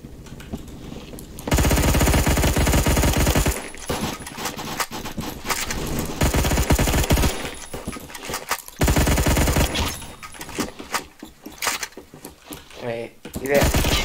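A hard-recoiling gun in a shooter game fires long rapid automatic bursts that start and stop several times, loud and close, while someone talks over the shooting.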